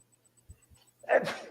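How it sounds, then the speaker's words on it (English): One sharp, explosive sneeze after a couple of soft sniffs and a quick inhale, close by. "I got a sneeze fit"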